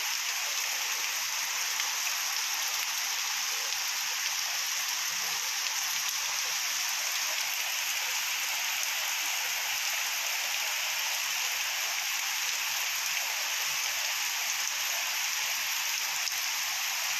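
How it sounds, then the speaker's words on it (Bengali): Heavy morning rain falls in Berhampore with a constant, even hiss of downpour, steady and unbroken throughout, with no voices. "এখন দেখতে পাচ্ছেন সকাল থেকে কার্যত প্রচণ্ড বৃষ্টি শুরু হয়েছে আবারও"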